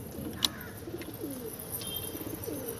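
High-flying pigeons coo in soft, low repeated calls at a moderate distance, with a sharp brief click early on and a faint higher chirp midway, in a quiet setting without talk.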